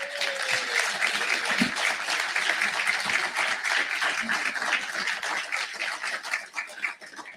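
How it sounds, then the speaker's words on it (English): An audience gives a round of applause for candidates at the end of a US Senate debate hosted at Benedictine University, a full, continuous burst of many hands that tapers slightly near the close. "Audience, you may now give them a round of applause"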